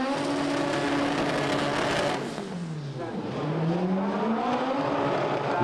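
A front-wheel-drive drag race car from Team JOS makes a loud demo run at Santa Pod, its engine revving hard and high, dipping briefly as it shifts, then climbing again in strong rising sweeps.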